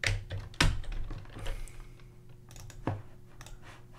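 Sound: keyboard shortcut keys being pressed

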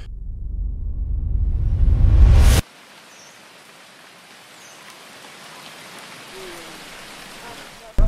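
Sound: hail falling during a hike in Ethiopia

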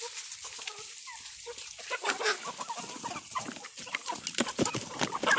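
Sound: chickens clucking while eating

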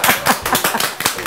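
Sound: applause for Yusif

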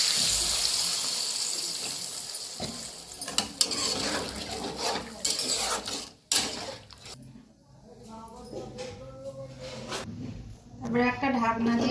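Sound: water poured into cooking curry

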